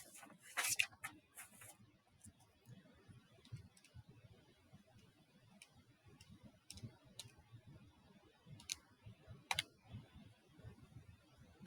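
Keys tapped on a computer keyboard while entering a formula: faint, sparse clicks scattered irregularly over a quiet room, a few louder taps standing out.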